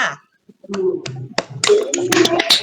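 A class chanting and clapping a Tepuk PPK routine over an online call: sharp, rhythmic hand claps in short bursts, joined by children's voices that grow busier toward the end.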